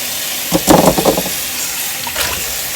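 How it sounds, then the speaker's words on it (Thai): Soaked Japanese fern (warabi) shoots rinsed in water: a short, close burst of splashing and sloshing lasting about a second, then a fainter slosh, over a faint steady hiss. "ทีนี้ก็มาล้างให้สะอาดอีกรอบนึงนะคะ"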